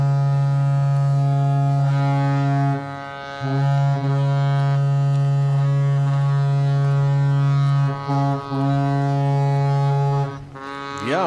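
Boat horns blare around the finish at a traditional skûtsje sailing race at Terherne, a loud, sustained low droning tone held for several seconds with brief dips and overlapping blasts, nearby and dominant.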